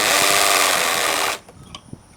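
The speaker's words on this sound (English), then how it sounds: "Use your drill to mark the hole." A power drill whirs steadily for just over a second while marking a hole in a garage wall for a solar wall lantern, then stops abruptly, followed by a few faint knocks and clicks.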